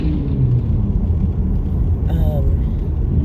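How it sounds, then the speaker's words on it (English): Car engine rumbling close behind under a person's talk, a loud steady low drone filling the whole stretch. "I have a car behind me that's wanting to make a lot of noise."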